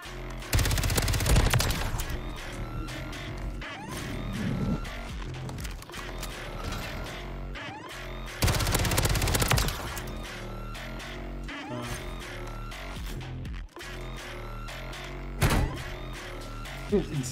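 Rapid bursts of SMG fire from an online shooter match with extended magazines, loud and close, coming in repeated sustained volleys separated by shorter clattering shots and thuds.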